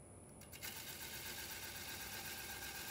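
Bowl gouge rounding over the edge of a spinning wooden stool blank on a lathe, a steady loud continuous scraping hiss with a faint hum under it, rising at the start and then holding even.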